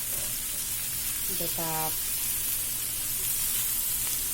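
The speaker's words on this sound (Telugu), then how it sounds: "ఇప్పుడు మనము టొమాటోస్, చింతపండు, కొత్తిమీర అన్నీ వేసేసుకుని ఫ్రై చేసుకున్నాము" Tomatoes, tamarind and coriander fry in a pan with a steady, even sizzling hiss that runs unbroken from start to finish, while someone speaks a few words briefly over it.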